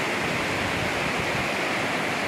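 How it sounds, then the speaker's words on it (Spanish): Steady, dense roar of a waterfall on the río Mundo near Riópar, loud and close with no pauses, filling the whole clip. "Hasta debajo de la cascada que ya llega."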